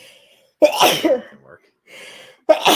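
A sharp, loud sneeze bursts out close up, followed by a brief spoken remark and then the start of another sneeze at the end.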